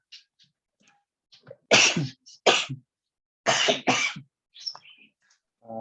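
Several sharp, loud sneezes burst out close by during a university history lecture, set apart by quiet gaps, with softer throat sounds around them.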